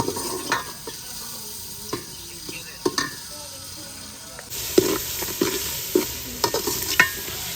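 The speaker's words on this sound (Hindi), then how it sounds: "ये रेसिपी हम बना रहे हैं गाजर और आलू की, उसके लिए ये मिसाले भुने जा रहे हैं।" Spices fry in a pan for a carrot and potato dish, with a steady sizzle that grows louder midway and repeated scrapes and clinks of stirring close by.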